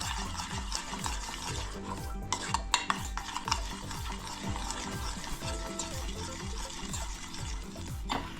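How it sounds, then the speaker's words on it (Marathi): Ghee, cheese and milk melting in a pan while being stirred continuously, a close, rhythmic scraping and swishing with a soft sizzle, no talking. "तूप, चीज आणि दूध सगळं एकसारखं करून घ्यायचं"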